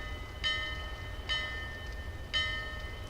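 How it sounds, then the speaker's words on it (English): Ship's bell in Dark Souls 2 at No-man's Wharf, struck after a lever is pulled, tolling three times at a slow, even pace with ringing metallic overtones over a low ambient hum. "The bell tolls."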